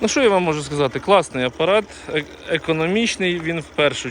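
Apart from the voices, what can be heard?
No distinct noise like a dog, phone or traffic.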